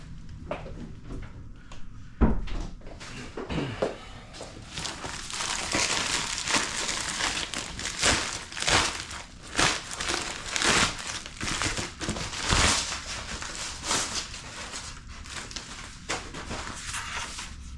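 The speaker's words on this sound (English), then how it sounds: "Now I will open the package." Steady, dense crinkling and crumpling of packaging, with scattered sharp crackles and rustles throughout, as a package holding a replacement front glass door for a Bambu Lab X1 Carbon 3D printer is opened.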